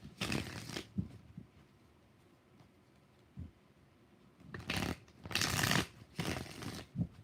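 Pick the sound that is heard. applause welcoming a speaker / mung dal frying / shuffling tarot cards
shuffling tarot cards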